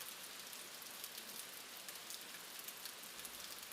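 Rain falls on the Amazon rainforest in a storm, a soft, steady hiss of countless drops on foliage, faint and continuous without any voices.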